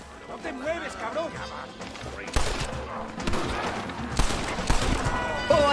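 Video game gunfire in Red Dead Redemption, a few sharp shots ringing out in an outdoor gunfight amid game voices and shouting, with a voice talking over the action.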